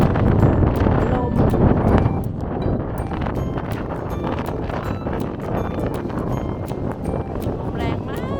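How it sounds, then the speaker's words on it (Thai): Strong Icelandic wind with rain roars and buffets the microphone in a loud, steady rush throughout, with a person speaking over it. "ลมแรงมากแล้วก็มีฝน"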